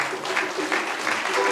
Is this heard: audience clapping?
yes